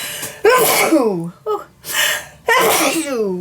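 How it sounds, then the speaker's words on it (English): A person sneezes loudly several times in quick succession, with sharp breathy bursts and a short gasp between them, close to the microphone. "I need to sneeze."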